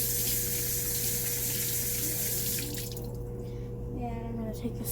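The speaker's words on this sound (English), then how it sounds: "I'm gonna turn on the water" A kitchen or bathroom tap runs steadily for hand washing, a constant hiss of water that thins out near the end with a few splashes and drips.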